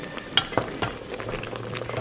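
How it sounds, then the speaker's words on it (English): Tomatoes fry in a pot with a soft, steady sizzle broken by occasional pops and stirring clicks, close by and without talk. "I just put them all together and let them kind of fry up really well"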